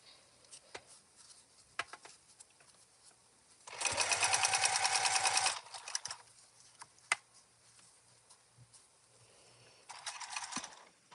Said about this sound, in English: we're going to top stitch 1/8 of an inch from the edge